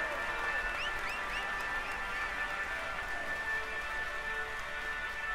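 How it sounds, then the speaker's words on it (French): Steady crowd applause and cheering at a cycling stage finish in the Tour de France 2020 video game, a continuous wash of noise at even loudness with faint whistles rising above it throughout. "Allez, on l'applaudit encore."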